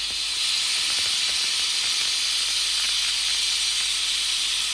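A pressure cooker holding basmati rice for mutton pulao vents steam in a loud, continuous hiss that stays steady from start to finish.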